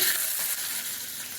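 Cashew nuts fry in ghee with a steady, close, bright sizzle that holds evenly for a moment, with no voices present.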